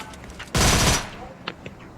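A single loud, close shotgun blast fires in a video game, a sharp half-second burst that stands well above the quiet game ambience around it.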